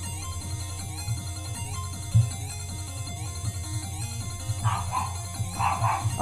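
A house dog barks at someone outside, a few short yapping barks rising near the end over a steady, busy indoor background sound.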